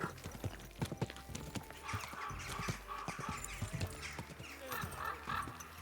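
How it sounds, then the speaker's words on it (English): Horse hooves clip-clop on a street in Kingdom Come Deliverance II, a steady uneven trot of sharp close hits over busy town ambience, with a horse's whinny and brief speech in between. "Easy, yeah, good horse."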